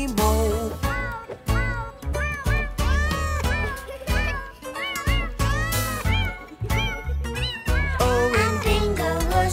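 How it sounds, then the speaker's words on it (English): A cat's meows are sung and voiced within a children's farm song about a farmer's cat, set over a steady musical backing with repeated melodic meow-like phrases throughout. "There was a farmer who had a cat, and Bingo was her name-o."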